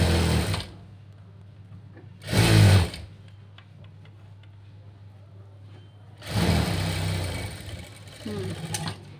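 Sewing machine stitching a folded readymade dress sleeve, running in three short bursts: a brief whir at the start, another around two seconds in, and a longer run near the end, with quiet pauses between.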